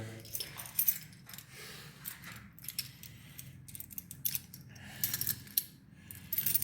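Metallic keys jangle and clink in bursts over several seconds, fairly close, with soft rustling in between and no talking.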